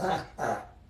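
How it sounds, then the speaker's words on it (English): A Yorkshire terrier gives two short, sharp barks close by, half a second apart, with a faint tail of sound after each. "That's my dog."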